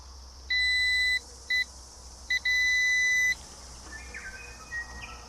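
A multimeter's continuity tester beeps while the wiring of a vintage David Brown 25 tractor is probed: a long tone, a short blip, a brief chirp, then a longer sustained beep, clean and close against quiet background.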